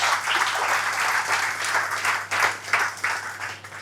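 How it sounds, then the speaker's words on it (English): Applause at a company meeting celebrating a commercial deal, a dense, even burst of many hands clapping close by, rising and falling slightly before thinning out. "Well done on your commercial deal. Round of applause."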